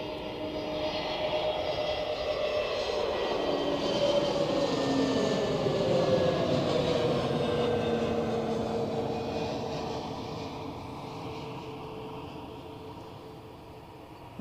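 A fixed-wing airliner on approach to Zurich Airport, a loud broad engine roar with a slowly shifting whine that swells through the middle and gradually fades as it passes.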